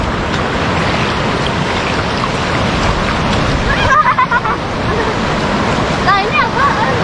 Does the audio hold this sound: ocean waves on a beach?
yes